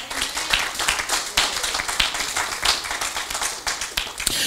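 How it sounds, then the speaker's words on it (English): A church congregation claps hands during a sermon, brisk, busy clapping from many people at a moderate level, fairly continuous through the moment. "Clap your hands to the Lord."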